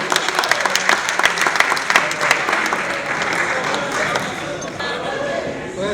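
Sustained audience applause at the premiere of a short film, a dense wash of many hands clapping steadily for six seconds with sharp individual claps popping out, close and loud, easing slightly toward the end.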